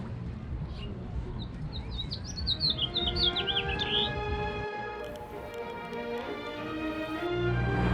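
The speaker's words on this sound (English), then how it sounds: "There are even birds here" Birds chirp in Cabo San Lucas, a quick series of bright tweets rising over a busy background murmur, then softer calls continue as the ambient noise shifts.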